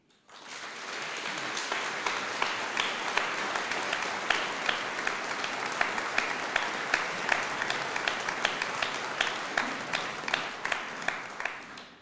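Sustained applause from a concert audience for a male chamber choir marking thirty years, a dense, even wash of many hands with a few sharper individual claps standing out, lasting throughout.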